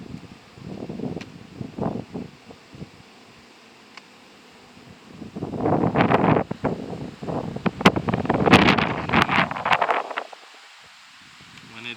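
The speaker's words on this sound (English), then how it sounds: "When it is so windy like this," Strong gusts of wind buffet outdoors at a beehive, rising and falling in loud rushing surges with microphone buffeting, quieter lulls between.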